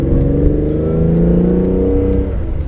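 A 1975 Ferrari 365 GT4 2+2 accelerating on the road, its engine note steadily climbing in pitch close up, loud and continuous with no voices.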